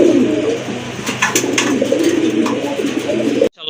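Lahori pigeons in a running pair coo steadily at close range, low repeated murmuring calls overlapping throughout with a few brief sharper sounds, ending abruptly.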